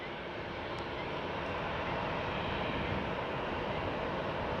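A VistaJet Embraer Legacy business jet at Faro airport makes a loud, constant engine roar that fills the whole moment without break, with no clear talk over it.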